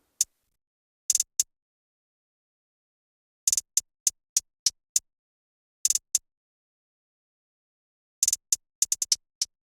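Crisp, bright hi-hat ticks in a programmed pattern: small clustered bursts spaced out, then a quicker run of hits near the end.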